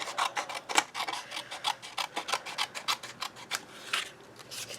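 Scissors snip through paper for a tiny 2 x 2 handmade mini album, a quick run of crisp, close, fairly quiet cuts in an uneven rhythm, with no talking.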